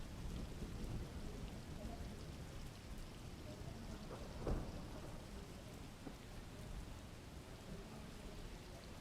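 Heavy downpour of rain pouring steadily in a dense, continuous wash, with a brief louder splash or rumble partway through and no voices.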